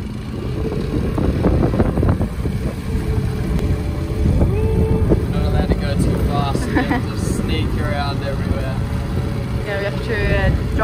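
A new outboard engine on a sailing yacht's dinghy idles quietly during its run-in on its first trip, a low steady hum mixed with wind buffeting the microphone, while people talk over it.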